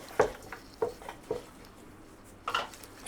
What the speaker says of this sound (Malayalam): എല്ലാം കൂടെ നല്ലോണം മിക്സ് ചെയ്യണം